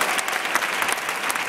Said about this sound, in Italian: vorrei un applauso per tutti coloro che hanno partecipato